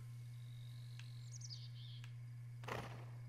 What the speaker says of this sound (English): There's the bird.